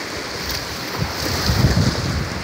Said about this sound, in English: the big wave that's gonna wet us